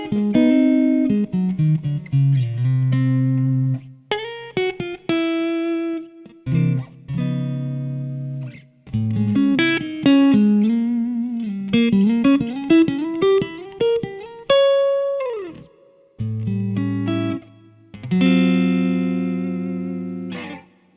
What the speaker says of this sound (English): that was my Strat in the neck position, utilizing the Vibreverb model and a bit of reverb